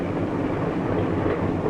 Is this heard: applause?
no